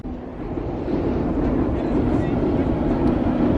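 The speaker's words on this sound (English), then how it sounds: "There's a train, guys, crossing over the bridge." A train rumbles and rattles steadily across a bridge, a dense, continuous roar that swells after the first moment and holds without pause.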